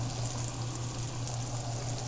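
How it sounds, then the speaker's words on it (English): Food frying in a pan during home Saturday cooking, a steady close sizzle and crackle with a low constant hum underneath, no talking. "It's frying right now."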